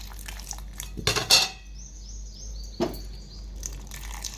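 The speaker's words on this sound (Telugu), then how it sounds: "ఒక కప్పు పాలు పోసుకోండి" A cup of milk pours into a blender jar with a banana for a milkshake, starting with clinks and knocks of the cup against the jar, then a thin trickling stream and a final tap.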